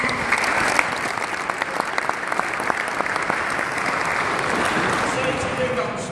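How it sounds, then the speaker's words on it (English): Audience at a community event about welcoming refugees gives a round of applause, a sustained patter of many hands with a few sharper claps standing out, loud and continuous throughout without speech on top. "Give me a round of applause one more time."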